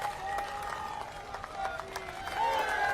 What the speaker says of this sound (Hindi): पूरी तरह अपने स्थान पर कारीलाल जी के ताली बजाइए